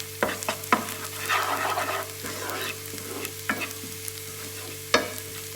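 Masala and curry leaves sauté in a pan for kaara mutta omelette, a soft sizzle under several sharp spatula knocks and scrapes, close by with no voices.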